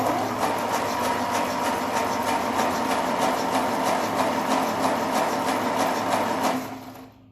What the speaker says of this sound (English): Give the engine a few spins.